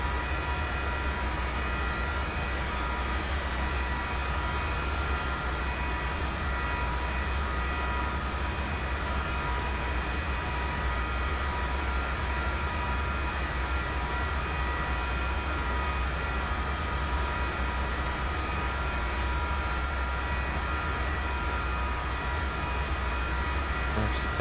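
A simulated F-4 Phantom jet in DCS taxiing at idle produces a steady, droning turbine hum with a constant whine. It stays uniform and moderately quiet for about twenty seconds, with no distinct events.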